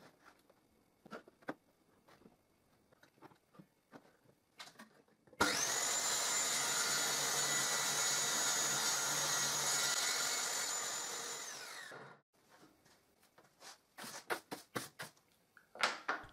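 A saw cuts a wooden board on a miter sled in one loud, steady whine lasting several seconds and then winding down, with quieter clicks and knocks of handling before and after.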